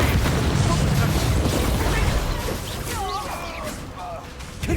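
A Confringo spell blast in Hogwarts Legacy, a loud booming explosion amid dense combat noise, followed by sparkling magical tones as people talk over it.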